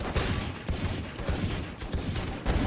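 Valorant gunfire in a competitive match, with dense overlapping shots and game effects forming a continuous loud barrage and repeated sharp transients throughout, with no clear talk.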